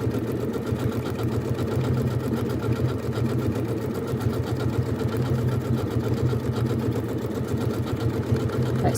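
A Janome sewing machine runs steadily, stitching a decorative pattern over ribbon with a continuous, even mechanical whir and rapid needle rhythm, close and alone.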